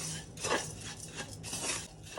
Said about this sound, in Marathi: याच कढईमध्ये आता आपलं हे सुकं खोबरं सुद्धा भाजून घेऊ.